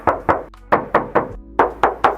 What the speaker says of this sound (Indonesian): kita tes ketok dulu